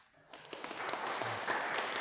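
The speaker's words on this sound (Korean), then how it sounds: "수고하신 분들 위해서 박수 한번 쳐주세요." Congregation in an Anglican church applauding during a Sunday Ascension Day Eucharist service, a dense patter of many hands clapping that builds after a quiet start and holds steady, moderately near.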